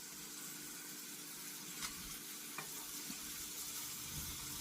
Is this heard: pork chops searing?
yes